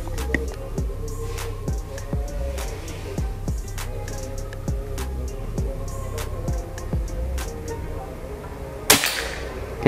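One sharp, close PCP air rifle crack from a Bocap Pajero Gen 5 firing 14.2-grain pellets near the end, after a long run of steady rhythmic ticking over a low background hum.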